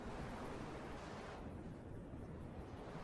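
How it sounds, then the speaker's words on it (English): A large explosion in a drone combat video game comes across as a faint, low, rolling boom. A broad rumble lingers and slowly thins out over about three seconds, with no voices. "See a large explosion down there."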